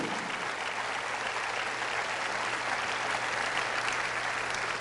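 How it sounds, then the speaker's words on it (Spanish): Sustained applause from a church congregation at a Catholic healing service, a dense steady wash of many hands clapping throughout, evenly loud with no voices standing out. "Fuerte ese aplauso."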